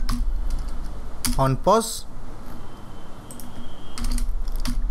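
Clicks of typing on a computer keyboard come in short bursts, close and crisp, with a person speaking over them.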